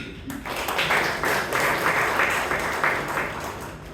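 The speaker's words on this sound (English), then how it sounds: "Give a round of applause, please" An audience at a Toastmasters club meeting in Bangalore breaks into steady, full applause that starts abruptly and holds at an even level for several seconds, with a murmur of voices faintly underneath.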